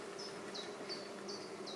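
Honeybees in an open hive make a soft, steady buzz throughout, with faint high chirps repeating at regular intervals in the background.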